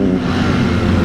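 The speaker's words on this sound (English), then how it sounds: "look at the sound of that. Oh, ho, ho, ho. Look at that Lambo!" A Lamborghini Huracan revs hard as it flies past in Lonavala, its loud, dense engine note close and continuous for a brief moment, with no other sound over it.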